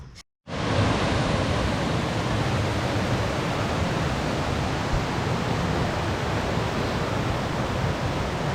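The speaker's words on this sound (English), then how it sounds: "There's a few waterfalls here" El Chiflon waterfalls roar as steady, dense, broadband rushing water, loud and close, continuous after a brief silent gap at the start, with no voices.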